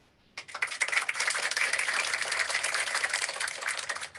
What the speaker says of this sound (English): how about another round of applause for everyone that's watching in the wonderful city of San Antonio